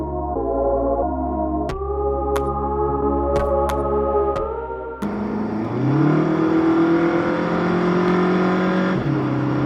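An Audi engine on a dyno revs hard and holds at high pitch, climbing through steps, then drops and surges again with a loud, rising mechanical scream.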